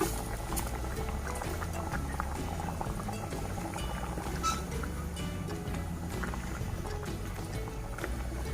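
Coconut milk simmering in a pot of tuna rendang gives a continuous, fairly quiet bubbling and popping with a low rumbling undertone. The sound stays steady and close throughout, with no talking.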